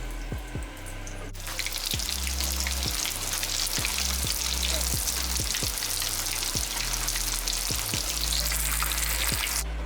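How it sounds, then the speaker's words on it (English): Scotch eggs go into hot oil to deep fry; after a quieter opening a loud, dense, continuous bubbling sizzle bursts up and holds steady, with low rhythmic thumps beneath, no voices. "the next thing that we're going to do is we're going to fry them"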